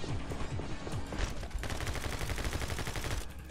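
Gunfire in the action video game My Friend Pedro, a quick burst of rapid, overlapping shots fired in clusters with rattling impacts, brief and fairly faint, heard without talking.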